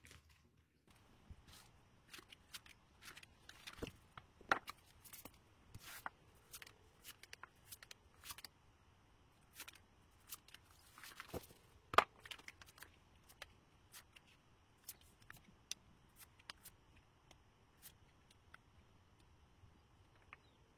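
Playing cards being shuffled and drawn during a tarot-style card reading, a quiet string of soft riffles, flicks and taps scattered irregularly across the stretch, close and faint with no talking.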